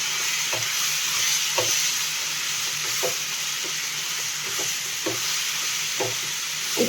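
Salted chicken pieces frying in a pan, a continuous loud sizzle with regular soft scraping strokes from stirring, close and without talk.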